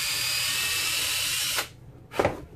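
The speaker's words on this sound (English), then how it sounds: "And just drill a little bit of a hole in there." A handheld drill gun bores a small hole into a model tree base, its motor whining steadily and loud for about a second and a half, then stopping, followed by a brief second burst.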